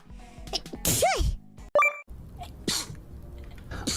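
A sharp, close human sneeze bursts out during a livestream by a virtual streamer, followed by a brief high electronic tone and softer vocal noises afterward.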